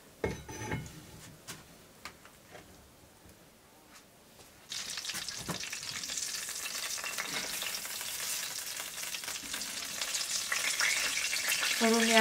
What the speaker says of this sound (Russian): Сковородка настолько горячая, что они уже прям здесь жарятся.